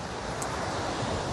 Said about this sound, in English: this is Tanto Beach